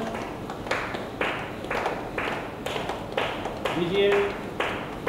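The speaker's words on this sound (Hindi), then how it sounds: "ताली बजाना चालू करिए" Clapping from a group on the set of the Hindi TV serial Shakti Astitva Ke Ehsaas Ki, in regular rhythmic bursts roughly every half second, with talking and a brief tone over it.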